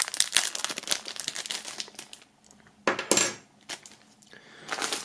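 Items such as a money clip and a music album are pulled out of plastic shrink-wrap foil, making close, loud crinkling and rustling bursts with a few short pauses and a light clink, and no one speaks.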